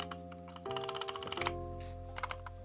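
Rapid clicky keystrokes on a backlit keyboard fitted with new keycaps, close and quiet in an ASMR style, a quick run of taps over a low steady hum.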